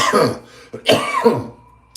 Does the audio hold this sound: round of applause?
no